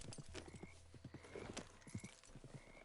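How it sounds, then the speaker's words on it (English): Horse hooves clip-clop at a steady walking rhythm in Red Dead Redemption 2, faint and even, with no talking. "That's a strong-looking horse."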